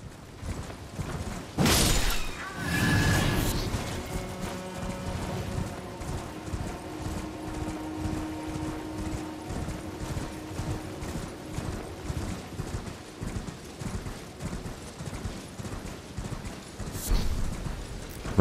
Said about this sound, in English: I suppose I should be using my horse.